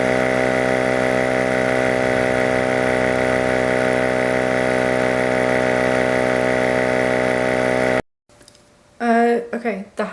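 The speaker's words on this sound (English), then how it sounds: "So I'm going to use my slime pump to hopefully temporarily fix this." A portable slime pump runs with a steady motorized hum and drone for about eight seconds, then cuts off, followed by a short burst of talk.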